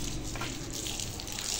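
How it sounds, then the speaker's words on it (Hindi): Tap water runs steadily into a kitchen sink used for washing dishes, a close, continuous splashing rush with no voices. "आ गया पानी"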